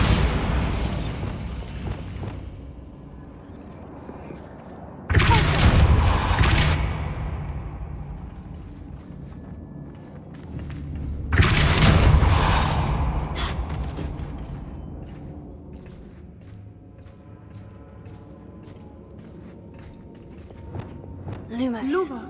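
Two heavy booming blasts of the Bombarda spell in Hogwarts Legacy, each a sudden loud burst that rumbles and fades, separated by quieter ambient game sounds and a short rattle at the end.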